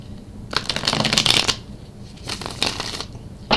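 Cards being shuffled in two bursts of riffling and flicking, close and fairly loud, with a short pause between them.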